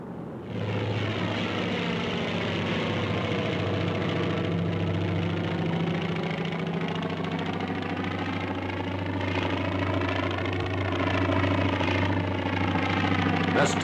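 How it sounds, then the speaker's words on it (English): Carrier-borne propeller aircraft of 1944 return to land aboard a carrier, a loud, continuous droning engine roar whose pitch slowly wavers and shifts as the planes pass close by. "The last of the carrier-borne aircraft return."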